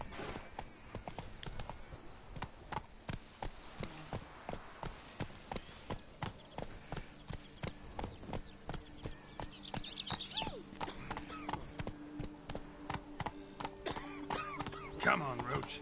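A horse gallops in The Witcher video game with a steady, rapid clip-clop of hooves, regular and fairly quiet, while a voice talks over it and a whinny and other game sounds rise near the end.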